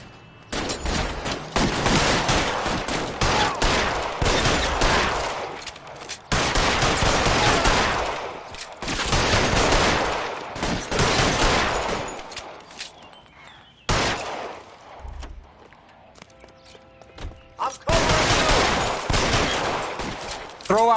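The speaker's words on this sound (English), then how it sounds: "Fire a warning round." Sustained bursts of automatic gunfire and rapid shots in the video game LA Noire, loud and dense, broken by short pauses, with a few quieter gaps and brief spoken lines between volleys.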